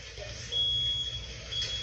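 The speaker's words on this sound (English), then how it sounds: "Smoke detectors." A smoke detector alarm sounds a thin, shrill tone in a burning house, faint and distant under a low rumbling background.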